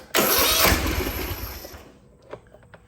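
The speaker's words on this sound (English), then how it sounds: "Start engine." A small engine cranks and catches loudly, roaring briefly before settling and fading to a rough idle with a few faint clicks, heard alone without talk.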